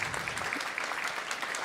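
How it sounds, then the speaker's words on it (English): An audience applauds a project at a games festival in Berlin, with steady, moderately quiet clapping from a crowd and a few sharper individual claps standing out. "we can give another round of applause for this project"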